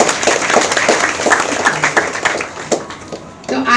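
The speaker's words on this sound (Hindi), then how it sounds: "एक बार जोरदार तालियां हो जाए" Audience applause for guests at a Women's Day gathering, a loose scatter of individual claps with uneven rhythm, moderately loud and close, thinning out toward the end.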